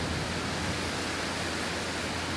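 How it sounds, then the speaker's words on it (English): Heavy rain pours outside in a steady, dense, even hiss with no breaks, loud and continuous, with no voices. "it's pouring outside"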